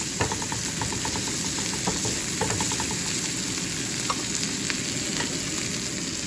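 Ginger garlic paste and turmeric frying in a pan for a masala omelette, a steady dense sizzle throughout with light scraping and stirring clicks from a utensil.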